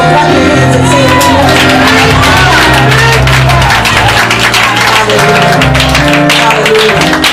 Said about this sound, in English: Clap your hands and say it